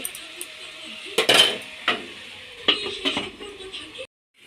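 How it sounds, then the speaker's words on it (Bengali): A spoon clinks and scrapes against a pan in several separate strokes while greens with salt, turmeric and sugar are stirred, and it goes quiet at the end. "একটু নেড়ে ঢাকা দিয়ে দেব"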